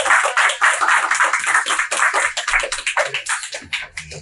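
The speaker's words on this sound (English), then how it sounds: "More claps for Shelby." A small audience applauds for Shelby, a continuous, fairly loud wash of hand claps that thins toward the end.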